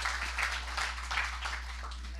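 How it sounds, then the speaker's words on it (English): An audience at a Western-themed talk event gives a round of applause, a moderate clapping wash with a few sharper bursts, heard over a constant low hum throughout. "So let's give him a nice round of applause."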